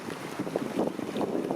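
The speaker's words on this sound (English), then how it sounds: "Wind's picking up, getting about 45 to 50 kilometers an hour." Strong gusting wind of a summer storm buffets a kayak on an Ontario lake during a multiday trip, a steady loud rush with choppy water noise close to the microphone and no talking.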